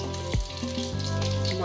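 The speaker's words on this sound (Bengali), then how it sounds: "ভাজা হতে থাক। এবার লিড দিয়ে আমি ঢেকে দিলাম, কারণ ফাটে খুব বোয়াল মাছ" Boal fish fries in oil under a lid, a steady close sizzle with faint crackles and a low tonal hum running beneath.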